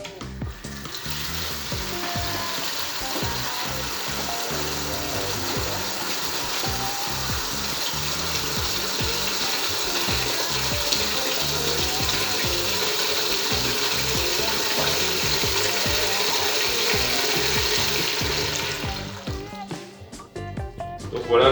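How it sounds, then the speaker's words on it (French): Tap water is flushed for several seconds through freshly soldered copper pipes, making a loud continuous rushing and rattling hiss that holds steady, then cuts off near the end. "je vais ouvrir l'arrivée d'eau pendant quelques secondes"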